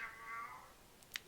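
A house cat gives a single drawn-out meow, fairly quiet and close by, trailing off into near silence with a faint click at the end.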